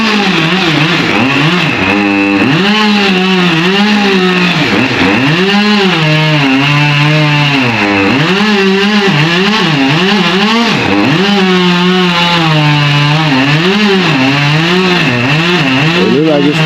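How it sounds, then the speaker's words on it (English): A chainsaw cuts through a tree while clearing a backyard, the engine droning loud and close throughout and rising and falling in pitch as it bites into the wood. "See the chainsaw hitting and see all the leaves shaking"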